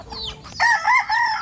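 Chickens on a backyard village farm, a rooster crowing in a few drawn-out calls close by, with soft clucking beneath.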